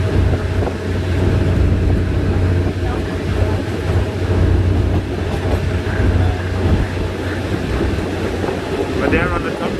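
Bangkok SRT electric train running over a wide stretch of track, a steady low rumble with rhythmic wheel clatter throughout, heard from on board.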